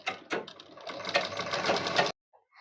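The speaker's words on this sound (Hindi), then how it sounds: "फोल्ड करने के बाद हम इस पे सिलाई लगा देंगे।" Sewing machine stitching a fold of fabric on a blouse, a close rapid mechanical whir with ticking needle strokes that runs about two seconds and then stops abruptly.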